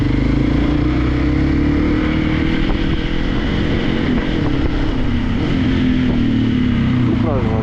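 Modified Hero XPulse motorcycle fitted with a CM titanium full-system exhaust, riding along an off-road-style trail, its loud, steady engine drone continuous and close throughout with slight rises in pitch.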